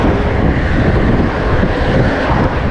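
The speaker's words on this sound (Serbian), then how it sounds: "Čekaj, nisam te čuo zbog vetra." Strong wind buffets the microphone during a roughly 60 km/h ride on 29-inch and 26-inch mountain bikes, a loud, constant rumbling roar that fills the whole clip.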